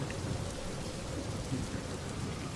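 Steady rain with a low thunder rumble in a forest, a dense, continuous wash of drops that holds at an even level for the whole stretch with no voices.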